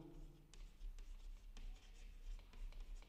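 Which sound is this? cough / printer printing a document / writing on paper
writing on paper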